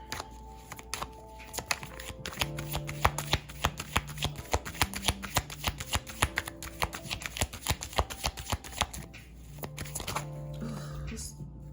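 Tarot cards are shuffled by hand for a reading, a close, continuous run of rapid riffling flicks and soft slaps, with a voice murmuring faintly beneath.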